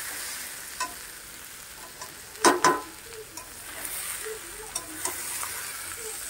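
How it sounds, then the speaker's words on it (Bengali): Green jackfruit and prawns fry with spices in a pan, a steady close sizzle broken by a few sharp stirring scrapes and clatters, the loudest pair bunched together near the middle, with no talking. "ইঁচড় চিংড়ি রান্না করছি, সমস্ত মশলা দিয়ে কষিয়ে নিচ্ছি"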